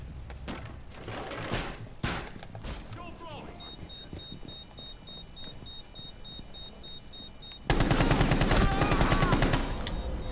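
Gunfire in the video game Tom Clancy's Rainbow Six: bursts of shots early on, then a long sustained volley near the end, with a voice talking over parts of it.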